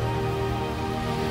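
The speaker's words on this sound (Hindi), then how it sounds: "ये आज की बारिश है, आज की और अभी की बारिश है।" Heavy rain falling on a road in Tandur, Hyderabad, Telangana, a steady, dense wash of downpour without pause, continuous and fairly close.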